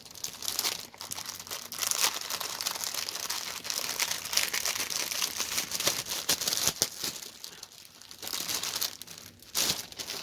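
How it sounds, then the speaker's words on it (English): Plastic wrapping crinkles and rustles steadily as a pre-stamped cross stitch kit is unwrapped, close and fairly quiet, with brief crackling bursts throughout. "let me take it out of the plastic here"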